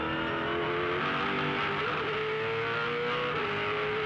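A 2007 V8 Supercar racing at Barbagallo climbs up through the gears to sixth with a steady, rising engine note, then eases off toward a corner, heard from a distance as a continuous mechanical drone.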